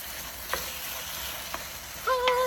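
Tomato spaghetti sauce sizzling in a pan over medium heat, a steady, even hiss with a few light clinks and a brief tonal squeak near the end.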